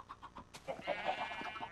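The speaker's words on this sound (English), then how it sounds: "chicken, don't get out, please" Chickens in the Minecraft video game clucking in a few short, rhythmic bursts, then a louder, busier stretch of overlapping game noise continues; fairly close and moderately loud, with no talking.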